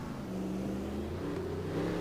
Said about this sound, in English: Second gear through the corkscrew, not over revving that motor.